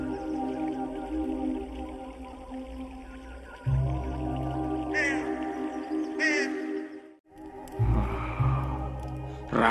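Crows caw in a short pair of rasping bursts midway, set against a steady musical backdrop in a dramatized biblical scene of ravens bringing bread and meat.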